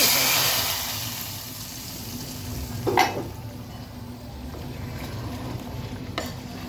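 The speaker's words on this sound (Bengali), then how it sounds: "এখন এই যে পাশের চুলোয় যে আমি আলুটাকে ভেজে দিচ্ছি" Potatoes frying in oil in a pan on a stovetop, a steady low sizzle with a sharp stir or scrape around the middle and another brief clatter near the end.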